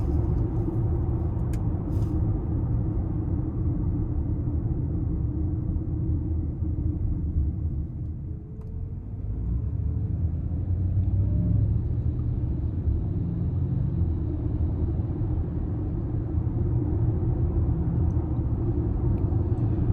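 Inside a 2026 Lincoln Nautilus Reserve II AWD with a 2-liter turbo four on 22-inch wheels, a steady low road rumble and tire drone fill the cabin on the move, continuous and moderately loud with no talking.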